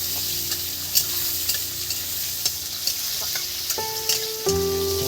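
Onions and spices fry in a pan for a snake gourd and potato dish, a continuous close sizzle broken by light ticks and stirring clinks, with a brief tonal hum near the end and no talking.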